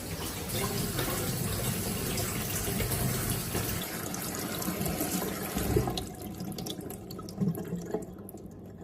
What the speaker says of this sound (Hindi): मैं भिंडी को वॉश करके रख दूँगी पानी ड्रेन होने के लिए